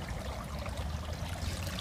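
Water from a garden hose trickles faintly and steadily through small aquaponics planters filled with clay pebbles, a soft continuous wash with no voices.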